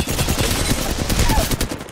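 Wingman revolver fire from Apex Legends crackles in a dense, loud burst of rapid shots layered with game effects over under two seconds, no voices present.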